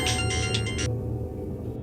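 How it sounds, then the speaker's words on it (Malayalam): A damaged mobile phone rings in a horror thriller, a bright electronic ringtone pattern heard close for under a second before cutting off abruptly, leaving a low hum. "എന്താ പൊട്ടിയ ഫോണിന്ന് ശബ്ദം വരുന്നത്?"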